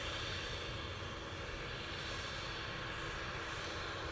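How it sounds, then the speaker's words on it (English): An Air France Airbus A220 airliner comes in to land at Manchester Airport, giving a steady, broad engine roar that stays close and level throughout with no talk over it. "Air France A220, just about to touch down"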